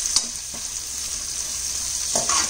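Onion frying on high gas heat for biryani, a bright continuous sizzle with a few faint scraping stirs of a spatula in the pan.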